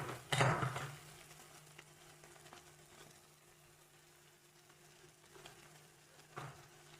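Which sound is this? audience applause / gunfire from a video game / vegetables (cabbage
vegetables (cabbage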